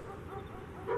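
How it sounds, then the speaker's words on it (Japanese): A dog whimpers and yips in the 1999 game Sword of the Berserk: Guts' Rage, a brief soft cry that rises at the end, heard over quiet game background with no talk. "この犬確かリタだ"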